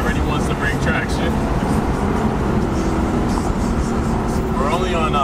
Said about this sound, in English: So just for perspective, this is a 3rd gear pull.